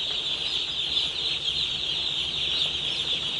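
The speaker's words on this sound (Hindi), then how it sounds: "और कोब का चिक्स है, आप देख पा रहे कोब 430 है ये" Cobb 430 broiler chicks in a winter brooding shed keep up a dense, continuous high-pitched chorus of chirping and peeping from many birds at once, steady and loud throughout with no voices.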